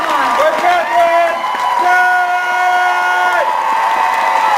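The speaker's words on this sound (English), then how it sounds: "I think we need to give her a big round of applause for joining us." Applause and cheers fill a panel hall at Fan Expo Dallas, steady crowd clapping with excited whoops and overlapping voices lasting the whole stretch.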